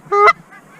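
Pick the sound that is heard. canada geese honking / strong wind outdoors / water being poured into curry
canada geese honking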